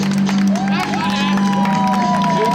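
Audience at an outdoor street show in Wrocław, Poland, with scattered clapping and crowd murmur from a small group over a steady hum, under the entertainer's ongoing voice.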